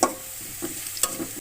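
Crushed garlic, onion and whole cumin frying in hot oil for lentil dal, a soft steady sizzle with a few louder stirring scrapes, close and alone with no voices.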